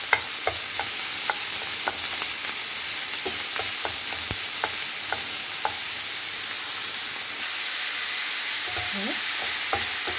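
Lardons frying in a pan, a steady broadband sizzle with occasional sharp pops and spatters, close and continuous with no talking.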